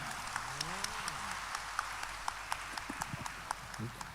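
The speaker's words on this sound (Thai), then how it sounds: "ปรบมือให้ตัวท่านเองครับ" A seminar audience gives faint, scattered applause, a handful of separate claps spread across the moment, with a voice heard briefly near the start.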